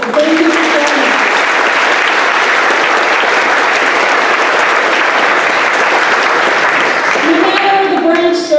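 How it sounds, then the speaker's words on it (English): Steady, loud applause fills a school Veterans Day assembly, unbroken for several seconds, with a voice speaking briefly at the start and again as the clapping fades. "let's give them a round of applause"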